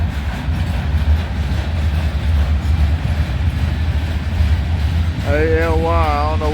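Freight train rolling past with a steady low rumble and rattle of cars, loud and close, joined near the end by a rising and falling horn-like wavering tone.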